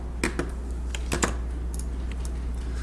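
Someone types a layer name on a computer keyboard in Photoshop, with a few sharp, close key clicks in short bursts over a low steady hum.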